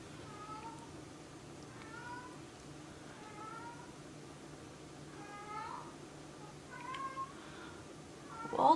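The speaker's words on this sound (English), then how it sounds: "If you can hear my cat" A cat meows repeatedly, several drawn-out mews spaced a second or so apart, fairly faint over a quiet room hum, with a brief louder noise at the end.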